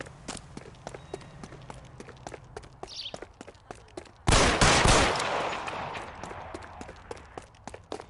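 Video-game gunfire: a steady run of sharp, evenly spaced shots and footfall-like clicks, broken by one big loud blast that decays over a couple of seconds before the clicks resume.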